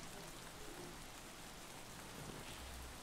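Steady rain falling in the video game Escape from Tarkov, a dense, continuous, even hiss of drops with faint low rumbles underneath and no talk.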